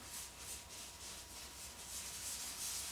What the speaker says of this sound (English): But I use a scrubbing motion